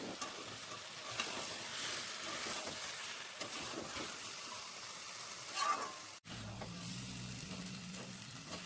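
Green chillies and potatoes for egg curry fry in a pan, with a steady sizzle and repeated stirring scrapes, close by, briefly cutting out before the frying resumes.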